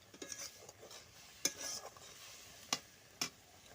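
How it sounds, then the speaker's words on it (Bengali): Leaves being stirred while boiling in water in a cooking pan, with soft scraping and a few sharp utensil clicks against the pot, alone and close. "নেড়ে নিচ্ছি যাতে ওপর নিচে সব পাতাগুলো সিদ্ধ হয়ে যায়"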